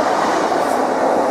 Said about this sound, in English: It's a Class 153 unit working empty stock to Crown Point Depot.